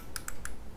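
Three crisp, quick clicks from the buttons of a budget Leaven RGB Q7 gaming mouse, close and distinct over a faint background hiss.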